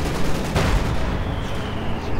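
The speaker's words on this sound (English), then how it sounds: "And another strafing run to cover the Panzer IV's operations, rather bold." Strafing-run gunfire in a Company of Heroes 2 match, a dense, continuous roar of rapid shots and explosions that stays loud throughout without clear breaks.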